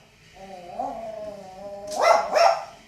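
A dog whines briefly, then gives two quick, sharp barks close by.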